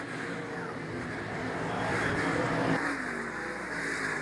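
IMCA stock cars roar around a dirt speedway, a continuous layered engine drone that swells and holds as the pack runs side by side, heard from a distance with no clear voices.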